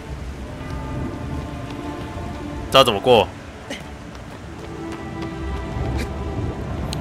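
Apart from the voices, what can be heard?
rain in the video game Shadow of the Colossus remake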